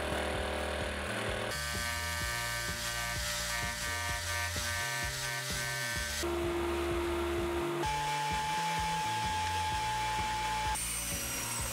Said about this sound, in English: I drill a couple of holes to machine a tilt slot